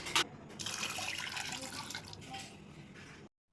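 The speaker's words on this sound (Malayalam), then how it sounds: "അപ്പോൾ ഇതിലേക്ക് നമ്മൾ കുറച്ച് വെള്ളം ആഡ് ചെയ്ത് കൊടുക്കണം." Water pours steadily from a tap into a pot, a continuous splashing rush with a brief clunk at the start, then the flow stops abruptly.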